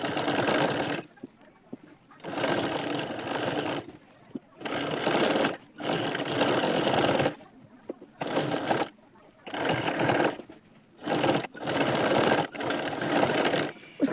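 A sewing machine stitches a blouse lining in repeated short bursts of loud, close whirring, stopping and restarting several times.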